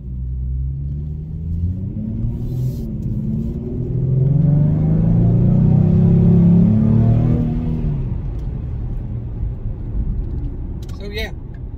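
A 2014 Ford Mustang's engine rumbles loud and close, swelling into a heavy rising pull for several seconds before easing off, with a brief faint voice near the end.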